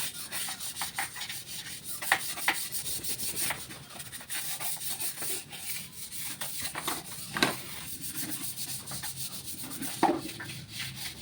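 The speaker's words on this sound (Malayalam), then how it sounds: "ഇത് ഞാൻ ഇവിടെ വാഷ് ബേസിൻ കഴുകാൻ വേണ്ടി മാത്രമായിട്ട് വാങ്ങിച്ച ബ്രഷാട്ടോ." Brush scrubbing a bathroom wash basin, with steady close rubbing strokes running throughout and a few sharper knocks of the brush against the basin.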